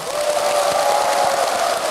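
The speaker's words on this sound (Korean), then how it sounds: "끊임없는 박수에" An audience at a Buddhist temple, the Masan branch of Tongdosa in Korea, keeps up a dense, steady round of applause that fills the room, loud and close, with cheering mixed in.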